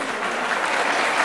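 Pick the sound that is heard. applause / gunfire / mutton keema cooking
applause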